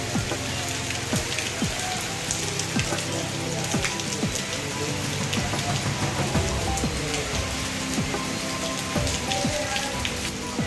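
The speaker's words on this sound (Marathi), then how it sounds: "खूपच मोठा पाऊस पडायला लागला" Heavy rain pours down in a dense, continuous roar, close and loud, with a steady wash of drops hitting surfaces and no voices.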